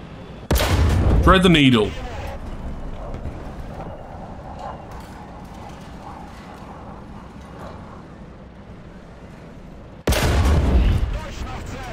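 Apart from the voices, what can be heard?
gunfire hitting a tank in War Thunder video game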